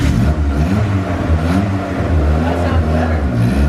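A turbocharged Honda D-series engine with a failing head gasket revs on a dyno, a loud, close, rising and falling engine roar that runs continuously.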